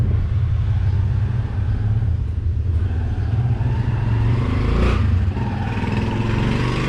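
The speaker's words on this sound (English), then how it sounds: "Sorry for the background noise, the tricycles are in and out." A steady low engine rumble fills the background from motorized tricycles idling and moving in and out nearby, with a brief louder swell partway through.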